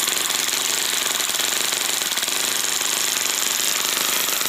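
A four-cylinder, four-stroke V400 nitro RC engine idles steadily and close by. Its dense, even buzzing drone stays at constant loudness with no pauses and no talking.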